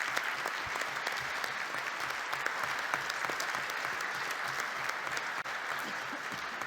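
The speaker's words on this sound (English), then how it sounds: "And so a big applause and congratulations to the team members." A large audience gives sustained applause to a student team at a Bocconi University event with Paolo Gentiloni on EU economic policy. The clapping is dense and even, and no one talks over it.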